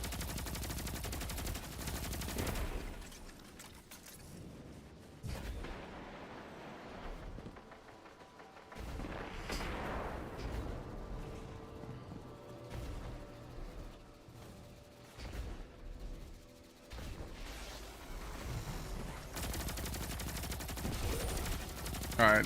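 Gunfire in the shooter game Destiny 2, dense bursts of rapid automatic shots and heavy thumps running almost continuously, with brief lulls, while players talk over the action.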